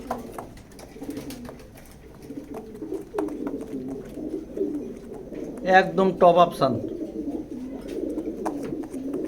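Grizzle pigeons in a loft coo in a soft throaty rumble, with a brief louder burst of cooing near the end, while someone talks over them throughout.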